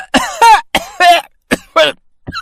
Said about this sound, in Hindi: जोर जोर से खांसने लगा।